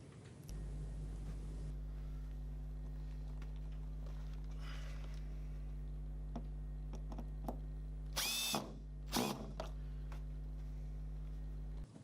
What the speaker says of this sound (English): Lock the axle cap in place with 1 screw.